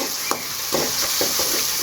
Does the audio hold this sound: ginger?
yes